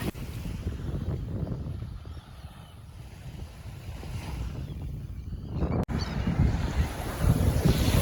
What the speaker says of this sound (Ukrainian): Хочу, щоб просто ви послухали ще під хвиль